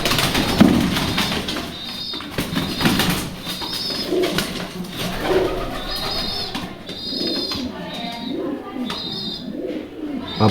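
Pigeons coo and scuffle close by, a white and a grey bird fighting over a nest. Throaty coos repeat over rustling, with scattered chirps and wing flaps throughout.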